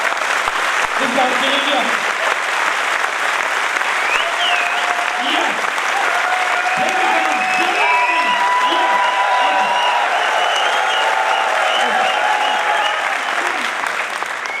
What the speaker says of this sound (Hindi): एक बार दिल खोल के ताली बजा दो आप इस बात के लिए